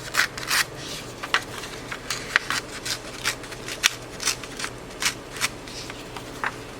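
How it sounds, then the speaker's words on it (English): Paper torn in short rips from the top and bottom edges of a handmade card, a run of about a dozen brief, crisp tearing bursts spaced unevenly over a quiet background. "I'm going to tear a little bit off the top and a little bit off the bottom."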